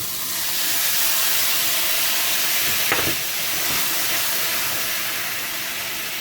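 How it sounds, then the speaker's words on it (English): Ginger pork sauce sizzles and hisses steadily in a hot pan, a loud continuous frying sound with a brief stir or scrape partway through and no talk. "you want this sizzling like this because you want to reduce it, but also you want to bring out the flavor from ginger and garlic"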